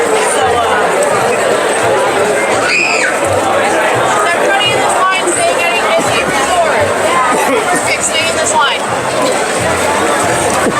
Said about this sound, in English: Quite a crowd waiting to get in.